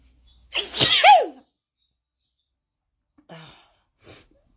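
A person trying to hold back a sneeze lets out one loud, forceful sneeze with a rising vocal squeal, followed by two faint breathy sounds in near silence.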